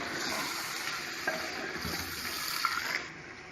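Freshly added mutton pieces are stirred and mixed in a hot cooking pot, giving a soft, continuous scraping and sizzling sound at low volume that fades slightly toward the end.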